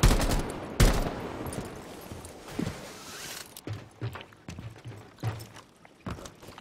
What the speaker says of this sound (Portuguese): Tiroteio da porra aqui